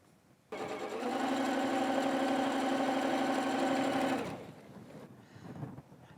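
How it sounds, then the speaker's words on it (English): A sewing machine stitches fabric pieces for a palm wall hanging, giving one close, steady motor whir of about four seconds that starts abruptly and then winds down into quiet. "And again, we're just going to continue sewing."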